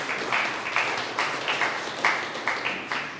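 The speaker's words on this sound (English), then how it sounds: "Give her a round of applause." An audience applauds a woman in a meeting, steady broadband clapping with rhythmic swells throughout, moderately loud and without talk.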